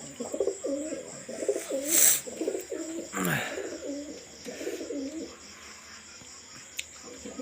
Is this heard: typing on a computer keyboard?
no